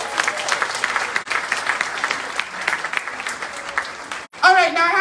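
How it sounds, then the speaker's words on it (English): Crowd applause for a Democratic nominee for the Allegheny County Court of Common Pleas at a political event, steady clapping for about four seconds that breaks off before a voice begins speaking. "let me hear a round of applause for our Democratic nominee for the Allegheny County Court of Common Pleas"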